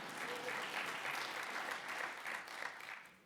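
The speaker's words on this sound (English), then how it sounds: "you can clap" Steady applause from an audience at a presidential candidates forum, a dense, even wash of clapping that holds across the whole stretch without pause.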